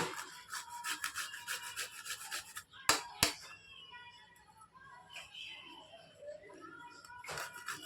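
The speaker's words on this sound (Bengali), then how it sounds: "একটু আদা ঘষে দিলাম" Fresh ginger rubbed against a grater while making lote fish paturi, a quick run of rough rasping strokes followed by a few sharp knocks, then softer scraping and kitchen clatter close by.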